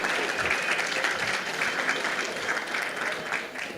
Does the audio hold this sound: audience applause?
yes